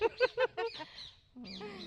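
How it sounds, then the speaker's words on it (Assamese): Close-up ducklings calling: a quick run of short nasal calls, a brief pause, then a longer wavering call. "এয়া চাওক হাঁহৰ পোৱালি ধুনীয়াকৈ ৰাখিছে"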